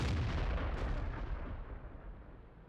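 In the tank game World of Tanks, an artillery shot booms out with a heavy blast that rolls away into a fading rumble, loud and alone.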